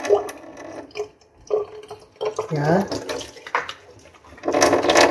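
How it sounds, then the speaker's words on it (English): Hands are washed with soap under warm running tap water in a sink; the water splashes unevenly beneath a person's speech. "So I'm going to wash with warm water."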